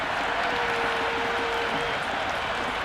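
Steady applause and crowd noise fill a packed cricket ground during day one of an India vs England Test match, a dense continuous wash of clapping from a large distant audience.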